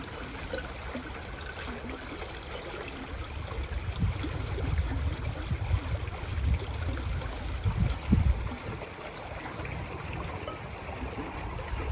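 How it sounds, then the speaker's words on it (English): Clean drinking water pours from the spout of a portable filter after pressure is applied, drawn from a muddy source fed by a sewage outfall; a steady outdoor trickle and splash with low rumbling, no talk. "Open the spout, and there you go, lovely clean drinking water."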